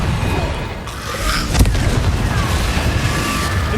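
A Confringo explosion spell goes off in the Hogwarts Legacy video game, a single sharp boom amid busy rumbling game effects and faint crackling.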